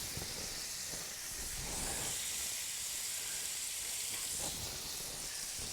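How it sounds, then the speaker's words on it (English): Butter sizzles steadily on a hot Blackstone flat-top griddle set just above medium, giving a continuous, even hiss with no other sounds over it. "I'm going to start by putting down a little bit of butter."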